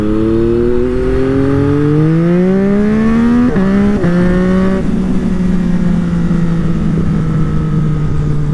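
A Yamaha MT-09 motorcycle engine revs hard under heavy throttle, its loud rising drone climbing through gear changes near the listener, then settling into a steady high pull; no talking.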